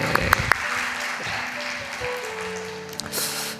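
A church congregation claps briefly in blessing after a worship performance, with moderate scattered applause in a hall. A few sharp claps stand out near the start, then a softer wash of clapping continues with faint tonal sounds underneath.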